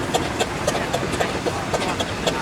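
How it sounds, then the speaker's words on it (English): A 1908 Russell and Foster steam traction engine at an outdoor steam rally approaches with a steady rhythmic chuffing, regular puffs over a constant rumbling mechanical background, moderately loud. "coming towards us at the comedy point is number 13 in the new programme, the Russell and Foster engine, Rusty, built in 1908"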